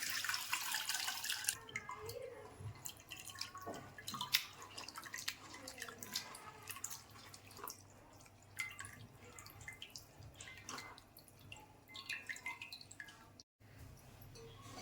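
Tomato rasam drips and trickles irregularly through a strainer close by, with soft splashes and patters over a quiet background hum.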